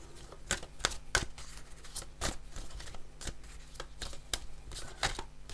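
Tarot cards being shuffled and drawn: a close run of quick, crisp card flicks and slaps in an irregular rhythm, fairly loud and alone without talking.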